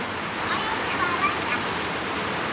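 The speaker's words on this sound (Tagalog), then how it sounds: "Lakas na, napakalakas din po kasi ng ulan eh." Heavy rain pours steadily during flooding, a dense, unbroken hiss of water close by with no pauses, filling the short stretch evenly.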